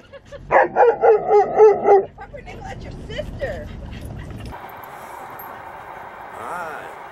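Airedale Terrier dogs at a reunion let out a rapid run of high yips and whimpering barks close by, then quieter whines continue under a person talking.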